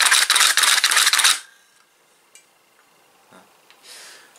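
Valves of a 3D printed trumpet being pressed, a quick burst of close, rapid clicking and clattering for just over a second, then a few faint scattered clicks in near silence.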